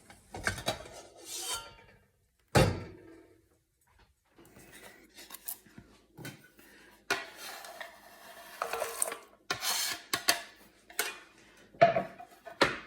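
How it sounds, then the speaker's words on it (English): A utensil scrapes and rasps around a pot of melting chocolate for chunky chocolate candy, making close, irregular bursts of stirring and clinking with short pauses between strokes. "So I am just going to stir in to melt the remainder of the chocolate"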